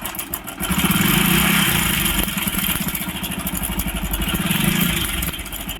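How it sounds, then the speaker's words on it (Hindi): A Hero Splendor Plus motorcycle idles with a worn, noisy timing chain, giving a loud, close, steady thumping idle with a fast rattling pulse that swells slightly and holds throughout. "ये टाइमिंग चेन बहुत ज़्यादा आवाज़ कर रहा है।"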